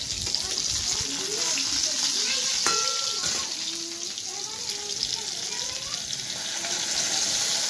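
Pointed gourd (potol) pieces sizzle and fry in hot oil in a home kitchen, a steady crackling hiss running throughout with a brief clink of utensils partway through.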